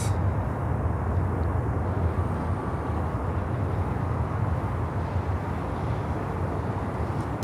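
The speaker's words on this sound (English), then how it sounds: "Virgin Atlantic 330-900 coming in from London Heathrow." A Virgin Atlantic Airbus A330-900 arriving from London Heathrow gives a steady, broad engine roar and rumble that holds at an even level throughout, without any voices.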